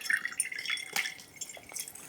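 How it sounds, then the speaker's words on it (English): Water trickling and dripping down through a chunky potting mix in a freshly watered pot of a variegated houseplant, a close, soft patter of drips and light splashing throughout. "you already can hear the water draining through"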